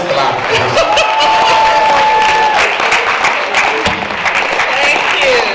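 Loud, dense audience clapping at a church gala night, with scattered cheers and chuckles rising through the steady applause.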